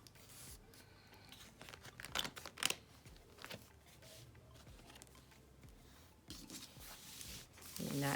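Scissors snipping through planner paper to cut a sheet in half, with crisp irregular cuts and paper rustling close by, quiet, with a voice speaking softly in places.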